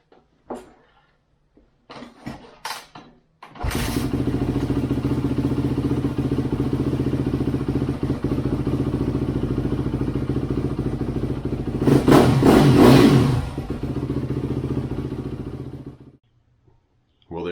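A 2003 Yamaha YZ250F dirt bike: a few clattering kicks, then the engine catches and settles into a loud, steady idle, with a brief rev blip before it shuts off.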